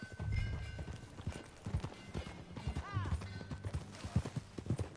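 Horse hooves clip-clop in Red Dead Redemption 2, an irregular run of close thuds and clops with a brief whinny partway through and faint voices in the background.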